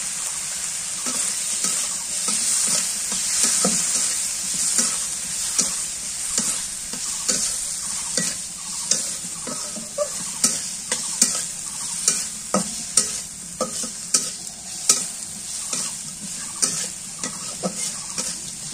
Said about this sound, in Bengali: মাছ ভাজি ওই পাশে হইতেছে